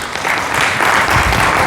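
An audience at a sales training seminar bursts into steady, dense applause that is loud and sustained throughout, with no voices over it.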